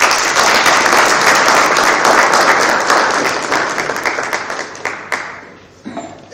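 Applause for the first speaker at a seminar on artificial intelligence and intellectual property, a full round of clapping from the audience that gradually thins into scattered claps.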